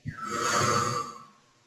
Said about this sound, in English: Take a deep breath in. And on the exhale, we'll relax the shoulders